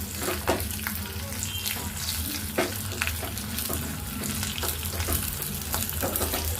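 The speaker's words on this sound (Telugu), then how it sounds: "వెల్లుల్లిపాయలు వేగాలి ముందు నేను ఎండుమిర్చి వేసేస్తాను." Dried red chillies and garlic fry in hot oil as tempering for Telugu-style dal tomato curry, giving a continuous close sizzling hiss broken by sharp crackles and spatters, with no talk.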